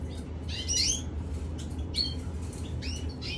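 Canary chicks squawk in short high bursts, a few clustered calls up close over a steady low background hum, with no talking.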